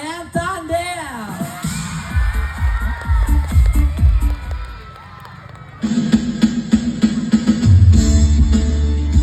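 A live village crowd at Barangay Marinit cheers and shouts for a comedy duo, loud whoops and yelling mixed with an announcer's amplified voice, swelling louder toward the end.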